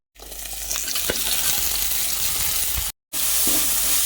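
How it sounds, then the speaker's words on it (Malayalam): Shallots fry in a pan for curry with a loud, dense, continuous sizzle and a few stirring scrapes, close up, briefly cut by a short gap near the end. "ഇനി ഇതിലേക്ക് നമുക്ക് കൊച്ചുള്ളി ഇട്ട് കൊടുക്കാം"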